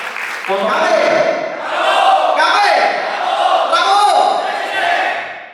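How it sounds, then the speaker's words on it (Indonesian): A large crowd at an officials' installation ceremony in Jakarta roars and cheers in rising waves, voices shouting together, sustained and loud throughout. "Kami Prabowo, tepuk tangan dulu dong buat kalian semua."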